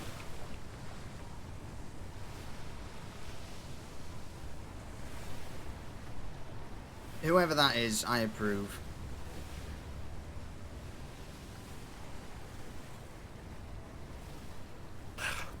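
Ocean waves wash steadily in a roleplay video game, a continuous windy surf rumble running throughout, with a voice speaking briefly in the middle.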